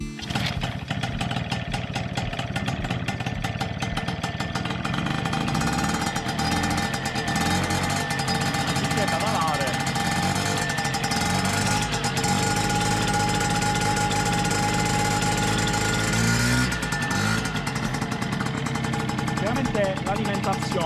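A moped engine starting and then idling close by, a loud steady putter with some rises in pitch, while someone talks over it.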